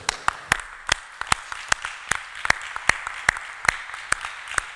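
A church congregation claps in a steady, rhythmic beat in praise during a worship service, with sharp, evenly spaced claps running throughout at moderate volume.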